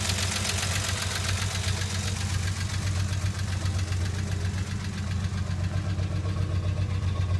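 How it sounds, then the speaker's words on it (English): A car engine idles steadily just after starting, a low, even rumble with a faint rhythmic knock, close and alone with no talking. "and this car runs, this car runs just beautiful"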